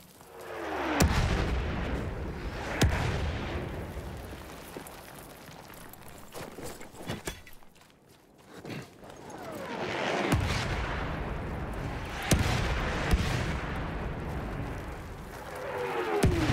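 Enemy artillery barrage in the Battlefield 1 video game, heavy booming shell blasts landing one after another at irregular intervals, some close and sharp, others rolling and distant, with rumbling decay between impacts.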